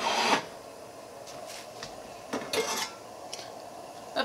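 A metal pan is set down on a stove for a potato curry, with a clank at the start and a few light knocks and scrapes of cookware afterward against a quiet room.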